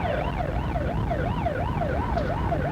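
An ambulance siren wails in a steady, rapid up-and-down sweep, loud and close, with no talking over it.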